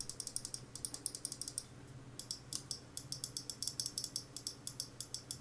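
Side buttons of a WLmouse BeastX Max gaming mouse clicked in rapid bursts, crisp sharp clicks close up, with a brief pause before another fast run of repeated presses.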